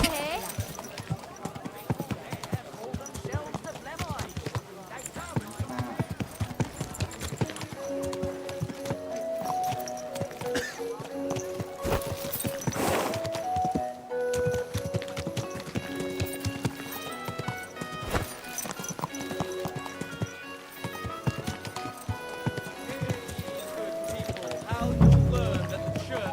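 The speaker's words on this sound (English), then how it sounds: "What a beautiful horse." Horse hooves clip-clopping in the video game Kingdom Come Deliverance 2, a steady rhythmic trot under game music and a talking voice.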